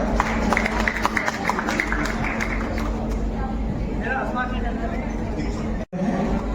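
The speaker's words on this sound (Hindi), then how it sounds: "जोरदार तालियां।" Loud, sustained applause from a crowd at an International Women's Day event for the Rewa Shakti campaign, a dense continuous clatter of clapping with voices mixed in, briefly dropping out near the end.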